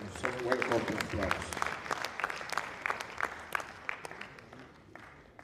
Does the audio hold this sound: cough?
no